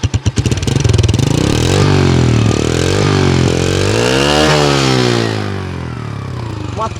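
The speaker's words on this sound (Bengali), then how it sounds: "বাইক এখন স্টার্ট হয়ে আছে" A 23-year-old motorcycle's engine running close by, revving up and down in rising and falling swells before settling to a steadier idle.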